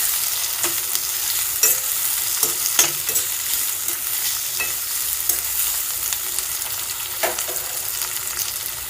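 Thinly sliced onions being stirred as they fry in a pan for a capsicum fry, a continuous close sizzle broken by sharp scraping and clicking strokes of the spoon.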